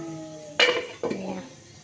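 A metal lid lands on a pot of simmering whole fish curry with a sharp clattering clink, then a second, softer clank as it settles, close and clear above a faint hum.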